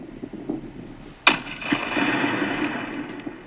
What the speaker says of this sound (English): This is a test explosion of this plane, the first explosion ever.